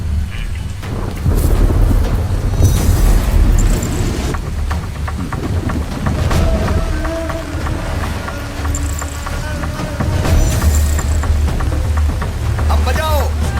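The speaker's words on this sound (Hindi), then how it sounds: "लेकिन सर बाहर बहुत बारिश हो रही है।" Heavy rain falls outside with rumbling thunder in a steady, loud wash, broad low roar throughout and occasional sharper cracks.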